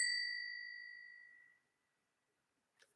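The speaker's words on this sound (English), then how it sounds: "hit the notification bell" A single bright notification bell ding rings out clearly and decays slowly over about a second and a half, followed by silence and a faint brief click near the end.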